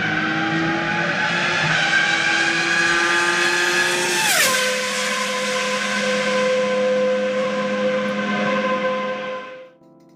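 A Ferrari F2002 Formula 1 car with a V10 engine screams past at high revs, its pitch rising then dropping sharply as it passes close by, then fading away with a steady high whine until near silence.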